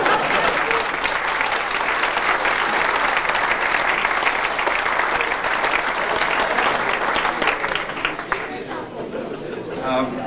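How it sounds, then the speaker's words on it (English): Sustained, steady applause from a banquet audience at a mayor's roast, many hands clapping loudly and evenly for about ten seconds with faint crowd chatter underneath. "fake it and clap."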